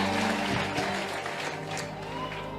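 A church congregation applauds during a sermon, steady clapping with a few cheers rising from the crowd, close and fairly loud throughout.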